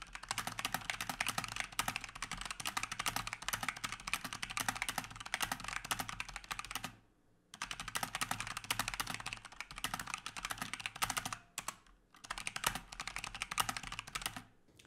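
Close, rapid typing on a computer keyboard clatters steadily, with two short pauses before the keys resume.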